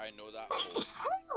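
A single sneeze bursts out in the middle of close-up talking during a casual online minigolf game, Golf With Your Friends, with voices continuing around it.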